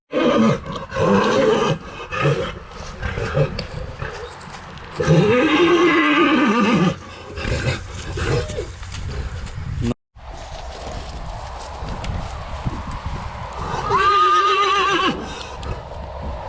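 Several loud neighs and whinnies from a Belgian draft stallion, harsh and drawn-out, ring out close by, with rustling and background noise between the calls.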